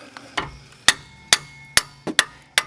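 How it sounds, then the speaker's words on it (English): A wrench is struck repeatedly with a hammer to break loose the rear caliper bracket bolt on a 2007–2012 Nissan Altima: seven or so sharp metallic clangs at an uneven pace, close and loud, with no talk. "I recommend fitting your wrench underneath the caliper bracket and hammering down."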